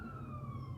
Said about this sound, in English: I can hear sirens now, but they're still far away.